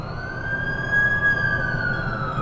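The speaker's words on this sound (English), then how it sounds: "That's the ambulance I called." An ambulance siren in The Amazing Spider-Man 2 video game wails in a steady, rising and falling tone, fairly close and alone without talk.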